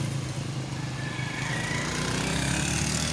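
A motorcycle engine runs steadily with a continuous droning rumble as bikes are parked at a college, loud and unbroken throughout.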